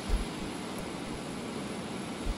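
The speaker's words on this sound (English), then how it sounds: "Everyone, look at that jet that just went down." Jet aircraft in the Arma 3 military simulation game roaring overhead as it goes down, a steady broadband engine rush with low thumps at the start and end, fairly quiet and with no voices.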